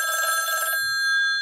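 A 1960s rotary dial telephone's bell rings loudly and up close in one short, bright metallic burst, then cuts off and leaves a lingering ringing tone.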